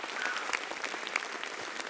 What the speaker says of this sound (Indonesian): Tepuk tangan dulu buat kalian dong